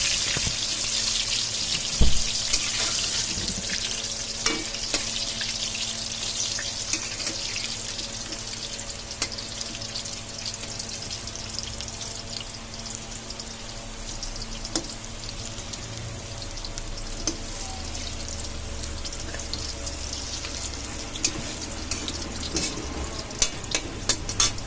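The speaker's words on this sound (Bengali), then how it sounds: "আলুগুলো ওইদিকে দেখো প্রায় ভাজা হয়ে এসছে" Potatoes frying in oil and being turned over, a long continuous sizzle with scattered clicks and scrapes of a utensil, steady and moderately close throughout.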